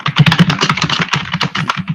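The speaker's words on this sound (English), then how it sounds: "I know you can hear the typing" Rapid, steady computer keyboard typing with close, crisp key clicks filling the moment, no voices over it.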